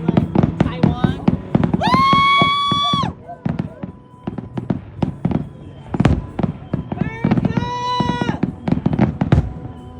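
A fireworks show bursts in rapid, sharp bangs and crackles, with whistling rockets rising twice, loud and close, as people talk in the background.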